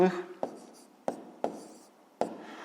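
A pen marks paper during a fifth-grade math exercise, with a few short separate strokes and taps spaced about half a second apart after a brief voice at the start.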